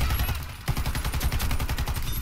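Rapid bursts of MSBS Radon rifle fire in the shooter game Warface, loud and close, with shots packed into a dense, continuous stream of reports.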